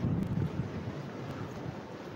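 Wind gusting outdoors on a sunny spring day, a steady low rumbling buffet against the microphone, strongest at the start and then settling into a constant roar.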